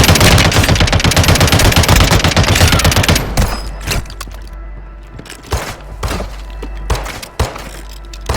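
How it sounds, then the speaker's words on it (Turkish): Dense automatic gunfire in the mobile shooter Call of Duty Warzone Mobile, loud continuous bursts at first, then thinning into scattered shots and thuds. "Bayağı bir silah sesi var."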